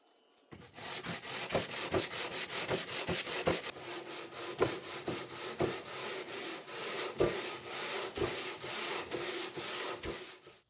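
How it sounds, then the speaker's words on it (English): Rhythmic back-and-forth rasping of hand sanding on wood, about two strokes per second, close and steady. "To finalize the shape, I used the benchtop belt sander for the rough part, followed by some hand sanding to refine it."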